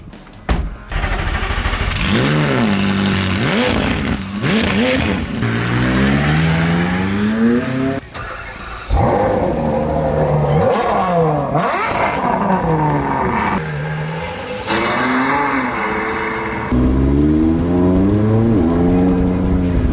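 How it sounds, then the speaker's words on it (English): A Ferrari 812 Superfast and a straight-piped McLaren 600LT drive hard, with loud, close engine revs that rise and fall again and again through gear changes and accelerations, continuous throughout and without talk. "the beautiful Ferrari 812 Superfast out for a little rip"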